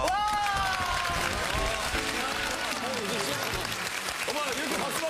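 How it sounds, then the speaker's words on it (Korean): A studio audience on a Korean talk show applauds in a continuous, moderate wash of clapping, while a voice talks over it for most of the stretch. "이렇게 박수 받고 얼마나 좋아요"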